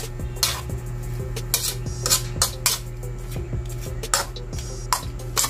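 A utensil stirs sautéed chayote with chicken in a pan, scraping and clinking against the metal in repeated strokes over a steady low hum.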